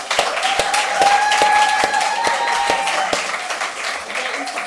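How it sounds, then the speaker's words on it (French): A church audience applauds guests Alain and Julie Kasongo, sharp separate claps over a sustained tone, with voices in the background. "On peut les applaudir."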